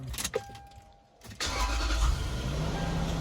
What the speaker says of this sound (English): all you have to do is turn it once and the rest of the car starts